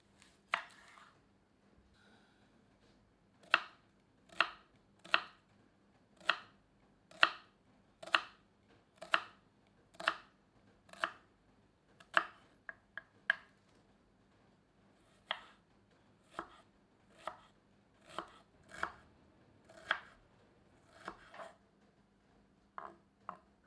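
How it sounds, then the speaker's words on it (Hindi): Onion being finely chopped with a knife on a cutting board, a series of crisp, evenly spaced blade taps in quick bursts, close and fairly quiet with no talk. "इनमें से एक प्याज को बारीक काट लेते हैं।"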